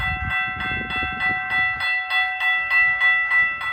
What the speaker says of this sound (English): For all you fans of the Siemens high-pitched bells, here's what it sounds like with